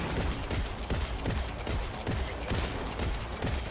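Sustained automatic gunfire in the video game Cyberpunk 2077, rapid bursts of shots repeating in a dense, continuous rattle at moderate volume without talk.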